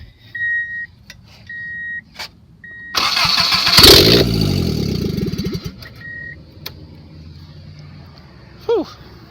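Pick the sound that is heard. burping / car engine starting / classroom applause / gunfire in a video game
car engine starting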